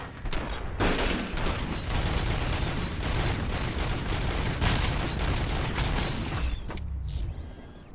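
Sustained rapid gunfire in the RoboCop: Rogue City video game, a dense loud fusillade of automatic shots with mechanical clatter, ending in a brief pause and a whirring mechanism.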